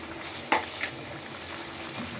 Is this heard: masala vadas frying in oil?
yes